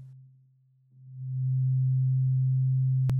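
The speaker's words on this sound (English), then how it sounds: "a simple example with a sine wave playing at C at 131 Hz" A pure sine wave tone pitched at C, 131 Hz, fades in and holds steady and loud with no other sounds, ending with a brief click.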